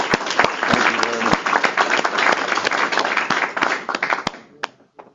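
An audience applauds after a presentation on hazelnut cultivars and harvesting equipment, a moderate burst of clapping that thins and fades out near the end, with a few voices underneath.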